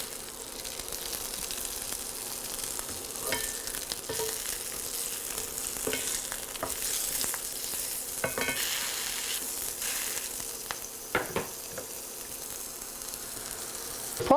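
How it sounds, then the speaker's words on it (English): Homemade sausages cook in a frying pan with a continuous, moderately loud sizzle, punctuated by scattered sharp pops and spits of fat and occasional clinks and scrapes of a utensil against the pan. "So we'll just cook these sausages up and give them a taste"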